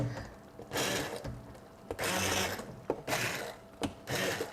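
A hand blender whirs in bursts while chopping homemade taco meat, four loud buzzing runs of about a second each separated by short pauses and clicks, close up.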